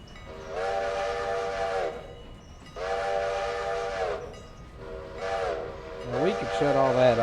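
A train whistle blows in long sustained blasts, three drawn-out calls followed by a short one and a bending, overlapping tone, loud and fairly close over a low rumbling background.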